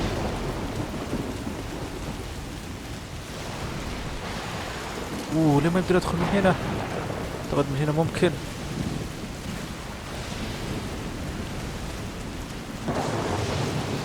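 Stormy weather in the game Death Stranding, a steady wash of heavy rain with low thunder rumbling throughout, while someone speaks briefly in the middle.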